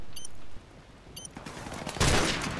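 Grenade explosion in the video game Call of Duty Remastered: a loud, broad blast bursts in near the end after a brief quieter stretch, preceded by sharp in-game clicks.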